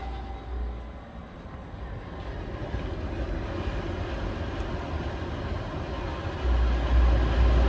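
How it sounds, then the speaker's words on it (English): Car air conditioning compressor and electric cooling fan running together in a garage, a steady continuous whir and low hum with no voices, growing slightly louder toward the end. "We got the compressor running. Cooling fan's running."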